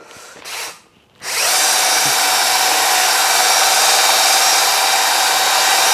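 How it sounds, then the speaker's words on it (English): A drill spins a three-stone, three-legged hone inside an engine cylinder bore on a Fowler PA1. After a couple of brief blips, it settles into a loud, continuous, close high whine. "I need to hone the cylinder out so it'll take new rings, but I use a 3-legged 3-stone hone"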